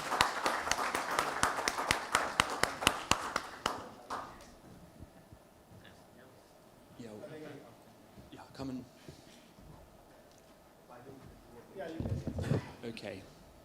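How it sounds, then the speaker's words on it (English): Brief applause from a small audience at a development report launch event, a few seconds of fairly close, uneven clapping that fades into quiet room noise with scattered talk afterward. "If we could give them a round of applause if they join the stage."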